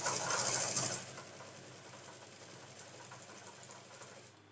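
A sewing machine stitching aso-oke fabric, a continuous close mechanical whir that runs loudest at first and then settles into a steadier, slightly softer hum throughout.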